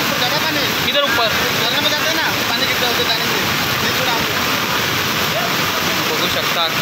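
Floodwater after torrential monsoon rain in Khopoli surges in big waves beneath a bridge, a loud, continuous, close roar of rushing water that fills the whole stretch, with a voice briefly audible under it.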